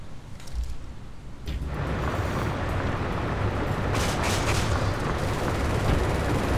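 Enemy gunfire in the action game Resident Evil 6 rolls into a dense, continuous roar of battle noise, loud and steady throughout, with a few harder blasts standing out partway through.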